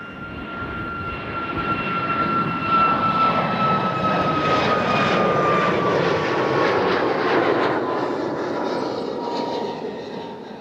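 A Boeing 737 MAX 8 airliner landing at Toronto Pearson airport, its jet engines roaring steadily and swelling as it passes fairly close, with a high whine on top, then slowly fading.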